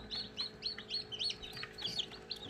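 Newly hatched chicks in an incubator peep in rapid, high repeated chirps, several birds overlapping close by with no talk.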